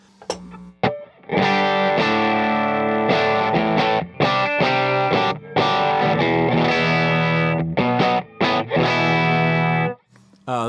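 An electric guitar with single-coil pickups slightly hotter than a Strat's or Telecaster's plays a lively passage of chords and riffs with a bright, slightly overdriven tone, stopping abruptly near the end.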